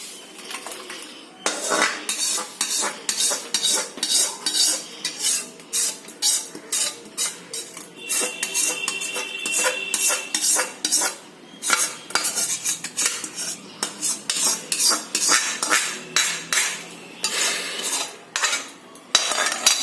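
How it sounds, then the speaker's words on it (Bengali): A spoon stirring milk for mango kheer in a metal pot, making a rapid run of rhythmic scraping clinks against the sides, close and fairly loud, with a brief pause before the stirring resumes, no talking. "আমি বন্ধ করে দিয়ে একটুখানি নাড়িয়ে মিশিয়ে নিচ্ছি ব্যাপারটা।"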